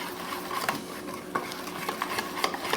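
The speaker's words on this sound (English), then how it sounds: "So you just keep whisking and adding." Batter being whisked with beer in a bowl, a quick run of soft rhythmic taps and scrapes over a steady hissing background, close by and without talk.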